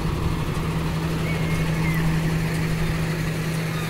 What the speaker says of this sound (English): Might get noisy here by this garbage truck,